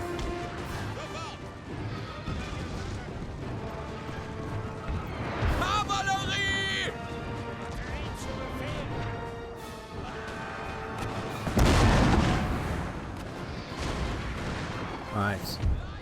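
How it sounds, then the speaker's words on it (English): Cannon artillery fire in Napoleon Total War, booming crashes and impacts among continuous battle noise, with heavier blasts around the middle and later, under someone talking. "the cannon are after him by the looks of it"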